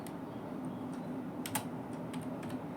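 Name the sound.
typing C code on a computer keyboard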